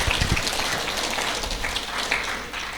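Audience applause at an official speech event, a dense crackling wash of clapping that fills the moment steadily and fairly loudly, with no voices over it.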